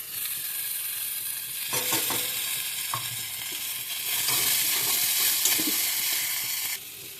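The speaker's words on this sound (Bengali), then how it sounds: "এই ধনেপাতাটা দিয়ে বেশি কিছুক্ষণ নাড়ি চাড়িয়ে" Coriander leaves are stirred into cauliflower, onion, garlic and chili frying in a pan: a constant close sizzle with scraping stirs and rattles that swell in the middle, then drop off sharply at the end, no talking.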